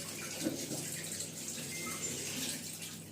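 Water from a Samsung fully automatic washing machine drains in a steady, continuous rush, a moderately quiet flowing and splashing sound that holds even throughout with no talking.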